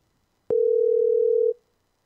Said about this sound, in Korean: 향기님 전화 갑니다